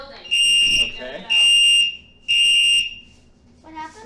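A building fire alarm sounds three loud, sustained blasts in a row, each about half a second long, with people talking between and after the blasts.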